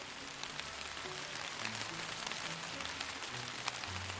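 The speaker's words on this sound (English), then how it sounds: "the rain," Steady rain sound effect made for game sound design, a dense, even hiss of falling drops with no voices.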